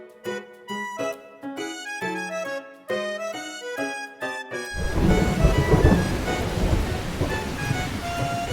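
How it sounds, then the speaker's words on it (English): Thunder and stormy sea in the Love & Deepspace video game: a gentle piano melody gives way to a loud, sustained roar of rumbling thunder and rain that fills the rest of the clip. "That sounded like thunder."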